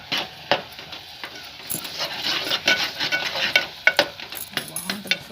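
Amaranth greens (chukkakura) are stirred in a pan, giving repeated scraping and clinking strokes of a spoon against metal with a faint sizzle beneath, steady and close with no talking.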